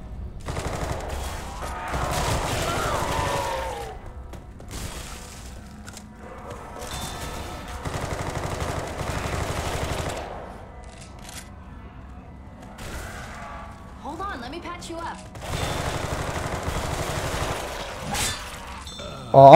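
Repeated bursts of automatic gunfire in Left 4 Dead 2, loud and sustained in clusters with short pauses between volleys, mixed with other game noise.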